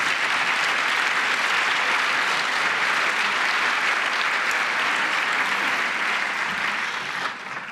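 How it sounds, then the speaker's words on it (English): A conference audience applauds the interpreters at an EU cancer debate launch, dense sustained clapping filling the room for several seconds before thinning slightly at the end. "Can we give them a round of applause now as well"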